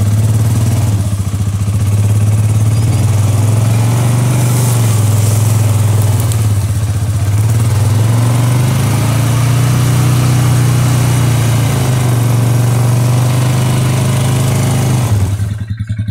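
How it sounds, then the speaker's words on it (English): A four-wheeler ATV engine running steadily in four-wheel-drive low, slowly pulling a rope taut while splitting logs, with a loud, close, low droning hum that holds even throughout before cutting off at the end. "Four-wheeler in four low, all-wheel drive low, and gonna slowly pull until that"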